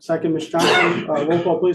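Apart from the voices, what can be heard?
sneeze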